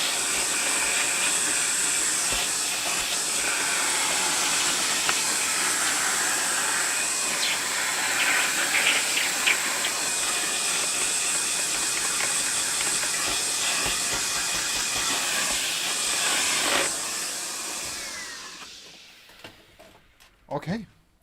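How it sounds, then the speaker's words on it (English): A vacuum cleaner runs with a loud, steady hissing whine that holds for most of the stretch before winding down and cutting off, followed by a few brief clunks. "Let's just get the vacuum cleaner."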